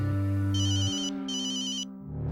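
A phone ringtone plays loudly and close, a bright electronic melody with repeating high beeping tones over a steady tonal backdrop.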